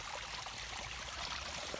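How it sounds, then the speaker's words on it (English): A waterfall on Miyakojima, Okinawa, gives a constant, soft rushing wash of flowing water, faint and unbroken for the whole stretch, with nobody speaking. "Check out this waterfall."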